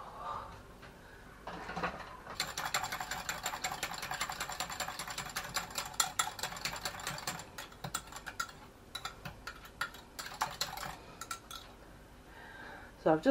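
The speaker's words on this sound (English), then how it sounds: "I've just whisked up one more egg with a little bit of creme fraiche" An egg whisked with crème fraîche for a broccoli and cheddar quiche, a rapid run of light metallic ticking and clinking against a bowl lasting several seconds, close and fairly quiet, with a little talk around it.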